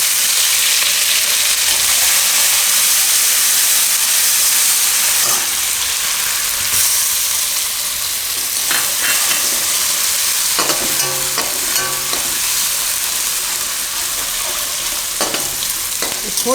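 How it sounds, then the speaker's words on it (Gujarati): Ginger, chillies and garlic sizzling in hot oil in a home kitchen, a loud, dense, continuous frying hiss with occasional stirring clatters, close and alone. "તો આ તેલમાં આપણે પહેલાં નાખીશું આદું મરચાંને ને લસણ"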